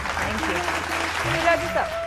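Applause from a studio audience on a televised singing reality show, a steady dense patter of clapping for a singer, with voices speaking over it.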